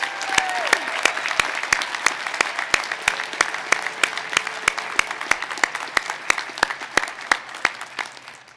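Graduates of the School of Applied Technologies receive applause at a Waukesha County Technical College commencement, with sustained crowd clapping punctuated throughout by loud, regular sharp claps or beats and slowly thinning toward the end.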